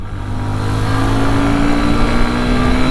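A Hero Xtreme 125R motorcycle engine, a 2026 model, is held at high revs in third gear, a loud steady drone with a rising whine that stays even the whole time, with no talk over it.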